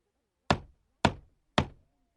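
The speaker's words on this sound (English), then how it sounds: "He knocks on the door of Grandma's house." Three firm knocks on the wooden door of a grandmother's house, evenly spaced about half a second apart, close and crisp, each dying quickly with no voices.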